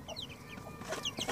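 Month-old chicks cluck and peep in short bursts, a few soft calls close by over quiet background noise.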